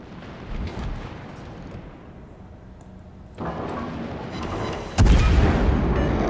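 Heavy battleship guns firing in World of Warships, deep booming salvos with rolling rumble, a louder close blast near the end followed by sustained roar.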